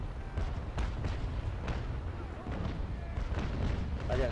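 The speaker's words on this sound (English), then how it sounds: "I got 2 mortar brigs firing at me." Mortar brigs in Naval Action fire in a series of dull, booming thuds at steady intervals, muffled and somewhat distant under a continuous rumble of sea and wind.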